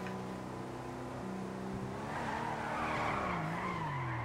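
A car drifts in GTA V, its tires skidding and squealing continuously over a steady engine drone, loud and close with no voices.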